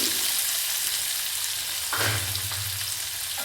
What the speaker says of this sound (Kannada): ಸಾಸಿವೆ ಜೀರಿಗೆ ಚಟ್ಪಟ ಆದ ನಂತರ ಈರುಳ್ಳಿನ ಸೇರಿಸ್ತಾ ಇದ್ದೀನಿ